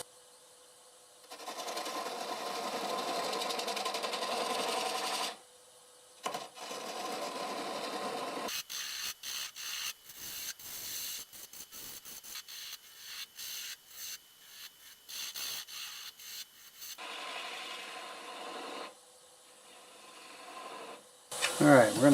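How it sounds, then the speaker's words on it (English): A 3/8 bowl gouge cuts cherry plum wood spinning on a lathe, making steady rasping scrapes in long bursts, then shorter choppy passes with brief pauses, close and fairly loud. "So now I have a 3/8 bowl gouge, and I'm going to start removing even more of this."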